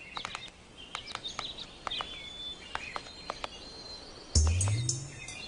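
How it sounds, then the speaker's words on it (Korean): A woodpecker pecking at a tree in the wild, sharp isolated taps spaced at an irregular rhythm, fairly close, followed near the end by a louder burst of low rumbling sound. "딱따구리가 나무를 쪼아댈 때"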